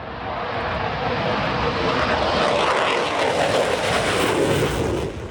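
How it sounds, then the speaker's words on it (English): A pair of F-22 fighter jets passing at the Oshkosh airshow, producing a loud, continuous broadband roar that swells and holds steady before easing off at the end. "This pair of F-22s was actually a surprise to us."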